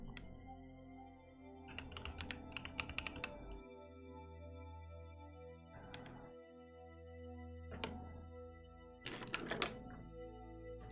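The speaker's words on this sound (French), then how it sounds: "Alors, j'ai juste besoin de mon clavier." Bursts of clicky keystrokes on a computer keyboard, in short clusters separated by quiet gaps, close and fairly soft.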